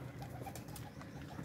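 A pet pigeon softly cooing at home, low, quiet murmuring calls repeating close by with nobody speaking.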